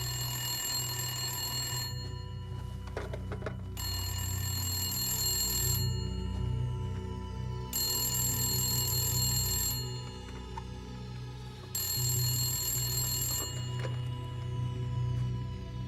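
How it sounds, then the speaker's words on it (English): A telephone rings in repeated bursts separated by short pauses, fairly quiet with a low background hum underneath. "It's been ringing incessantly."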